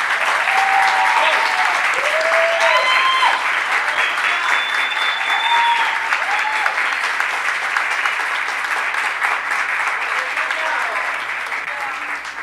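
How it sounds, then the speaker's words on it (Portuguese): A church congregation gives a loud, continuous round of applause for the youth department leaders, with a few whistles and cheers over the clapping in the first seconds before it slowly eases. "eu queria uma salva de palmas para eles"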